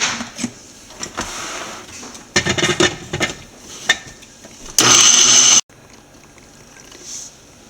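A mixer grinder whirring in short bursts and then one steady louder run while grinding coconut into a smooth paste for Kerala mackerel and mango curry, with rattling between pulses and no talking.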